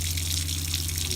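Tap water runs in a travel trailer after its water pump has been replaced, a steady close hiss and gush with a low pump hum underneath, unbroken and alone.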